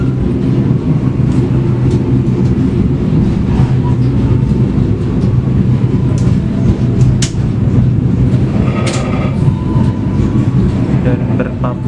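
Rolling rumble of a Taksaka train running near Kroya as the Pasundan train passes, steady loud low-frequency roar with rhythmic clatter and occasional sharp metallic clicks.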